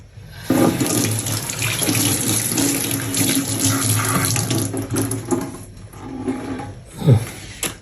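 Running tap water splashes loudly as a century egg is rinsed underneath. The stream starts abruptly, flows steadily for several seconds, then tapers off into a few shorter splashes and drips.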